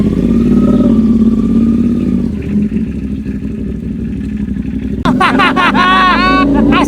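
A big bike motorcycle on a test ride around Tagaytay gives a steady, loud engine drone with a deep rumble, under continuous talk and chatter, with a sudden shift to brighter, warbling sounds near the end.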